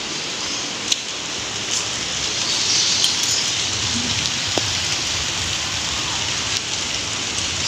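Heavy rain with big drops falls steadily outdoors near a fruit-bearing tree covered with netting, making a dense, constant hiss with a few sharp drips and knocks standing out.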